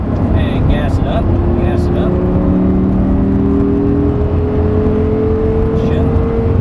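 An exotic car accelerates hard in fourth gear on a track driving experience, a loud, rising engine whine building steadily up close while an instructor talks over it.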